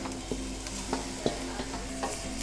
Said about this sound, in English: Just saute it off for the celery, onions and carrot till they're soft